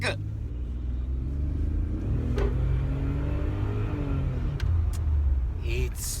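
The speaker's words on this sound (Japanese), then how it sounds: "加速チェック。" A car accelerating during an acceleration check: a steady, loud engine rumble and road roar that builds gradually, heard from inside the vehicle, with a voice talking over it.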